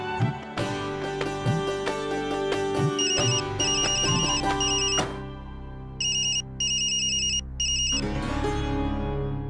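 A phone rings with a looping melodic ringtone, steady and fairly loud, its pattern shifting to bright repeated beeps before the tune resumes.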